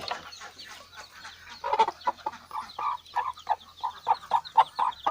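Hens and chicks in a backyard chicken coop cluck repeatedly in quick, uneven bursts at moderate volume, growing busier toward the end, with no talking.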